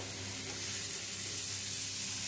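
Spice paste fries in oil for a mustard fish curry (pabda tel jhal), a continuous even hiss of sizzling oil filling the whole stretch at moderate, steady loudness with no voices.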